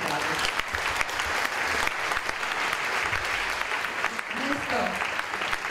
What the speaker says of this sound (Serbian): dajte sebi jedan veliki aplauz za tu hrabrost